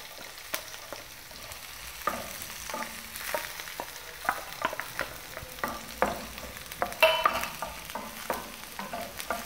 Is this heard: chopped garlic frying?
yes